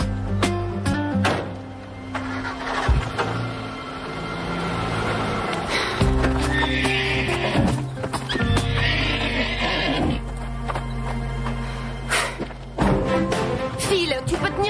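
A horse neighs loudly and repeatedly, close by, with hoof clops and thuds between the calls and some talking mixed in.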